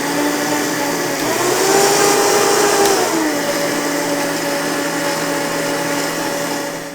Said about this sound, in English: You put your lid on your blender and we're gonna blend it up.